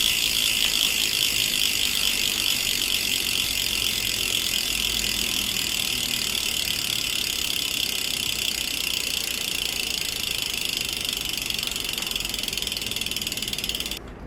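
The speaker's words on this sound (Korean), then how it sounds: "S18단 라쳇 소리 한번 들어보세요." Freehub ratchet of a Madison New Delta S18 minivelo bicycle buzzing in a fast, steady, even clicking stream for about fourteen seconds, close and loud, cutting off abruptly at the end.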